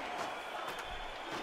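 Arena crowd in the wrestling video game WWE SmackDown vs RAW 2011 at an ECW show, a steady, dense roar of crowd noise with no breaks, fairly loud and continuous.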